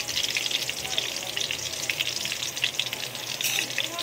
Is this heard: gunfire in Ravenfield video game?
no